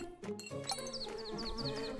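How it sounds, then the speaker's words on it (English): Buzzing bees in the video game Secrets of Grindea, a bright wavering drone with repeated rising-falling pitch swoops, heard over steady game music. "Oh, bees."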